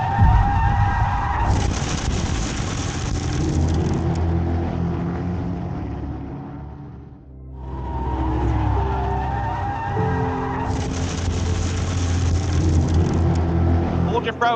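Race car tires skidding and squealing under hard late braking into a turn in the EuroNASCAR 2 video game, a loud sustained screech over engine roar that fades briefly midway and then returns with speech over it.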